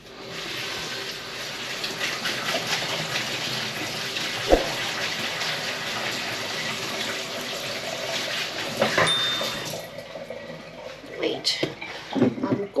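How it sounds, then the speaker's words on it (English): Cold tap water runs steadily over chopped leek in a colander in a kitchen sink, a continuous close splashing gush that tapers off near the end, with speech faintly present. "Run that under some cold water."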